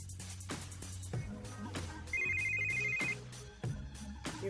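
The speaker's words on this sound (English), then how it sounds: "Your phone is ringing." A video-game phone ringtone chimes in a steady repeating tone for about a second over background music, clear and fairly prominent.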